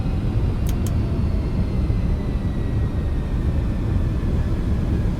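An MD-11 jet on the runway in a flight simulator after landing, braking with a loud, steady broadband rumble and roar that stays constant throughout.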